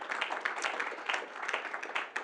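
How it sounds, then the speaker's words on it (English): Steady applause from an audience at an architects' forum in Lagos, a dense patter of many hands clapping at moderate volume without a break. "I think we deserve a round of applause for that."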